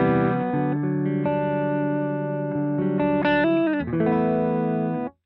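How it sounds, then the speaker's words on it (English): Distorted electric guitar chords through a Boss GT-1000 Core amp and cab simulation ring out, sustaining and shifting between a few strummed chords before cutting off sharply at the end. "We just got an amp and a cab going at the minute and it sounds a bit like this."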